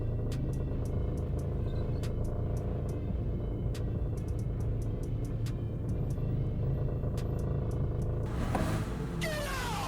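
A lowered BMW engine runs steadily with a low rumbling drone and faint ticking, then revs up near the end with a rising whine.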